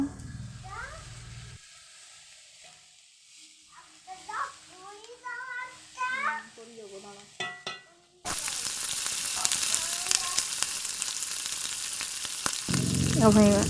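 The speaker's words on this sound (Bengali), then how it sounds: "ফ্রাইড রাইসের সবজিগুলো ভেজে নিয়েছি এবং ভাতের সাথে এরপর ভাজা করব" Vegetables for fried rice sizzle and hiss in a hot pan, the frying loud and steady through the second half after a quieter stretch with scattered mewing cries and faint voices.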